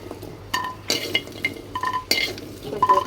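A metal spoon scrapes and clinks against a pan while scooping fried jackfruit seeds out, with several distinct close scrapes and taps spread over a few seconds, a faint sizzle underneath.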